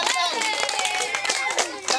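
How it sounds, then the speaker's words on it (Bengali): Several people clap during a children's marble-and-spoon race game, quick irregular claps that land close together for a couple of seconds under a voice and bright chatter. "তালি দাও তালি সব তালি"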